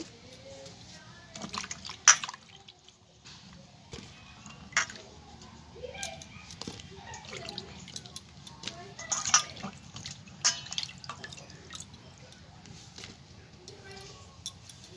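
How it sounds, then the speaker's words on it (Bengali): Chopped onions being rinsed in water, with intermittent splashing, dripping and sloshing at close range, and a voice heard at times. "পেঁয়াজগুলো আমার সারানো হয়ে গেছে ধুয়ে নেব"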